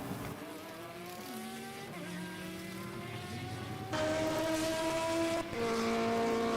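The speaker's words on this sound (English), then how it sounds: "one of the Peugeots goes racing through our shop" Peugeot race car at a European Hill Climb Championship round in Ilirska Bistrica, its engine note rising and falling through gear changes as it speeds past, growing louder and closer toward the end, with no talk.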